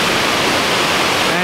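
Steady, dense rushing of water from a small waterfall beside a larger one on the Pakse Loop in Laos, a constant close roar with no voices.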